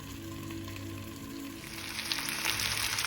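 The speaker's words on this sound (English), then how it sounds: "If you notice that they are splattering a lot and popping a lot onto your cooktop" Potatoes frying in a skillet on a cooktop give a steady close sizzle, with the popping and spattering growing denser and louder in the second half.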